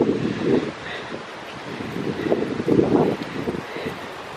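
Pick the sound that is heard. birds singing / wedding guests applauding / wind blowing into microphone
wind blowing into microphone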